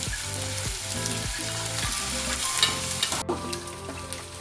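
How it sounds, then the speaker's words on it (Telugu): Chicken frying in a pan with onion and ginger garlic paste, a steady loud sizzle with stirring scrapes and small pops throughout, no talk. "కొద్దిగా పచ్చి వాసన పోగానే మనం చికెన్ యాడ్ చేసుకున్నాం"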